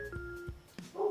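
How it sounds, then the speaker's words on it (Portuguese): Dog barking and yipping indoors, a few sharp short barks with a whimpering tone between them, fairly faint. "Quieto, cachorro!"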